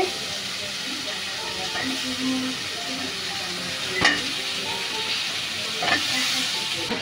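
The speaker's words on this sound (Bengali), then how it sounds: "চাল কুমড়াগুলো সব দিয়ে দিচ্ছে, এটাকে ভালো করে নেড়ে চেড়ে মিশিয়ে নেবে" Chunks of ash gourd tossed into spice paste frying in oil, giving a steady sizzling hiss with a few louder stirring scrapes and clatters, a voice faintly talking underneath.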